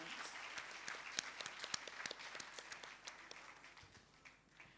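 Audience applause after a classical Indian dance performance at a Rangapravesh debut recital, a fairly faint, steady patter of many hands with a few sharper individual claps standing out, tapering off near the end.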